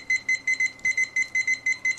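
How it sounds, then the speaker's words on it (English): A Habor digital kitchen timer sounds its alarm as a run of short, shrill electronic beeps in quick pairs and groups, close and loud against quiet. "the Habor Kitchen Timer"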